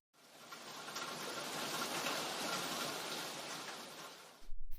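Steady, dense hiss of heavy rain pouring continuously for several seconds, fairly faint, ending with a brief low rumble.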